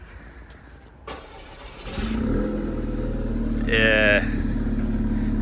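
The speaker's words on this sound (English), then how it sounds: "we'll get you guys a cold start" A manual VW Golf GTI Mk5 with an APR 3-inch turbo-back exhaust and sport cat cold-starts: a click, a brief starter crank, then the engine catches and settles into a loud, steady idle with a short rev, under a brief spoken word.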